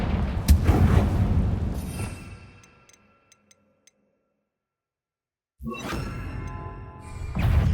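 A Confringo blasting curse explodes in Hogwarts Legacy, a loud close boom with a crackling whoosh that fades into near silence with a few faint ticks. A second forceful burst then erupts and rumbles on to the end.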